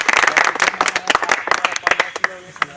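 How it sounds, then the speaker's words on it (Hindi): Irregular clapping from a small audience at an SSC GD selection felicitation, uneven and choppy, with broadband hand claps bursting on and off and a voice speaking over it. "जोरदार ताली"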